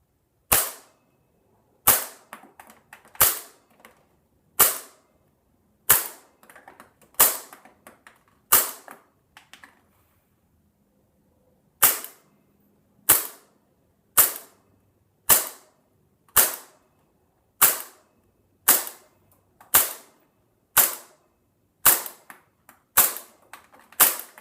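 KWA M226 airsoft pistol fitted in a CAA Roni carbine kit firing single shots, about twenty sharp loud cracks at a regular pace with a short pause midway, each followed by a brief ring.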